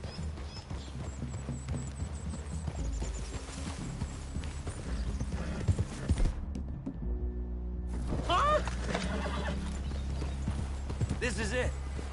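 Horses' hooves clip-clop steadily in the Red Dead Redemption 2 video game, a continuous rhythmic trot under background music, with characters talking over it.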